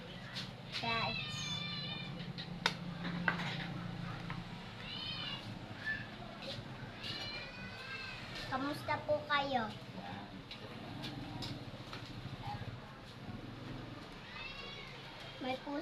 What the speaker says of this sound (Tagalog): May pusa po kami guys